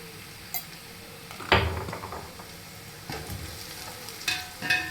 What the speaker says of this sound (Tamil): இந்த ஆயிலே ஃப்ரை பண்ணும்போது நல்ல கலர் கொடுக்கும் பிரியாணிக்கு